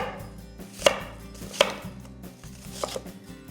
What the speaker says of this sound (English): Cut them into wedges.